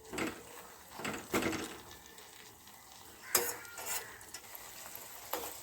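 Homemade bhringraj hair oil bubbles and sizzles in a pan on the stove, a steady soft frying hiss broken by a few scraping stirs of a utensil against the pan.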